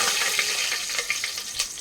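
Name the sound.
bay leaf and spices frying in hot oil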